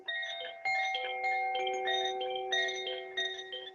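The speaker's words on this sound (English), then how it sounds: "It's a wind chime." Tinkling wind chime tones ring out one after another, overlapping bright metallic notes sustaining in a steady, unhurried cascade with no talk.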